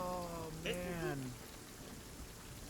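Pouring rain ambience at a tabletop role-playing session set in Ravenloft, a steady broadband hiss of rainfall running throughout, briefly overlapped early on by a voiced vocal sound before continuing alone.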